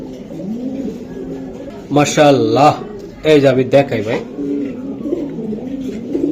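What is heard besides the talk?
racing pigeon cooing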